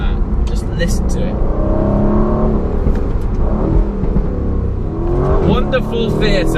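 A sports car's engine revs hard with a loud, raspy exhaust note, rising and falling in pitch over several seconds in a sporty throttle mode, with a burst of higher whine near the end.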